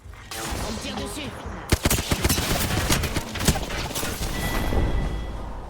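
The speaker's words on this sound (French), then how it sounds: "On me tire dessus." Gunfire in the shooter game Apex Legends: several sharp cracks and quick bursts ring out in the middle of the clip over a steady bed of game noise.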